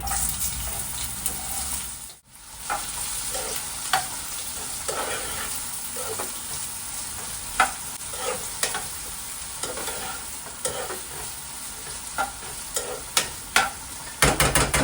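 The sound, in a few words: onions frying in hot oil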